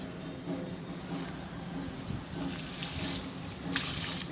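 Water poured by hand onto the base of a rose plant in a garden, a steady close splashing trickle that grows fuller and brighter partway through, with no talking.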